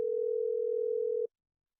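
A single steady telephone tone drones for just over a second and then cuts off abruptly, a call going unanswered, with silence afterward and no voices.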